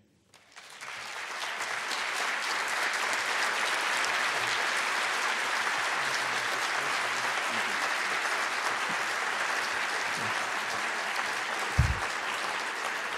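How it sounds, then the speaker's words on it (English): A conference audience at a summit on race and inclusion applauds after a talk, with sustained, even clapping that rises quickly and holds steady for several seconds. "Let's give him another big round of applause."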